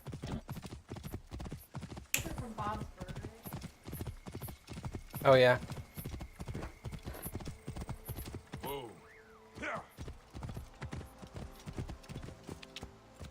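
Horse hooves clip-clop at a steady trot on the ground in the video game Assassin's Creed Origins, close and continuous throughout, with a brief neigh partway and someone talking over the hoofbeats.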